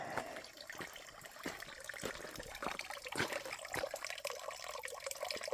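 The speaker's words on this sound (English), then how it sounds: "That is the water source." Faint, steady trickling water with small drips and splashes at a woodland trail water source on the Appalachian Trail, a gentle continuous flow heard from close by.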